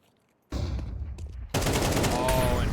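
In a competitive Counter-Strike match, sustained automatic gunfire spams in loud, dense bursts, starting abruptly after a short quiet and swelling into a heavier barrage, with a commentator's voice faintly mixed in.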